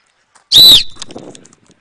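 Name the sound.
coach blowing a whistle at football camp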